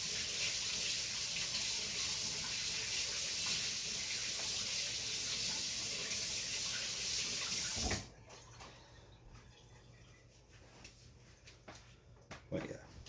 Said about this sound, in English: I'm gonna give my hands a quick wash here.